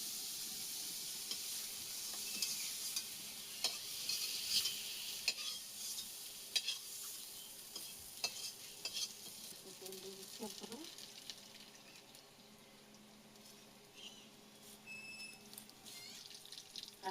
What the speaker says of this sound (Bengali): দিয়ে দিলাম তেলে করে, হালকা হালকা ভেজে নিলাম।